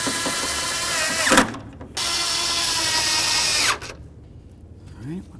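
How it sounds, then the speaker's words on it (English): A power driver runs headlight mounting screws into a 1992-2000 Chevy Tahoe in two steady whirring bursts of a couple of seconds each, close and fairly loud, with a short gap between them and a quiet tail afterward. "Let's put in our mounting screws."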